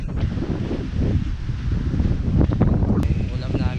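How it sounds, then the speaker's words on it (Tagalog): Strong wind buffets the microphone at a scenic coastal stop in Dingalan, Aurora, roaring in low, continuous gusts while people talk underneath. "Sobrang lakas ng hangin."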